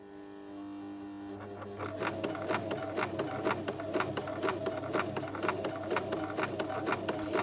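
A sewing machine stitches piping along the border of a quilt, whirring quickly and evenly at close range with a dense, regular run of needle ticks that starts about two seconds in and carries on without a pause.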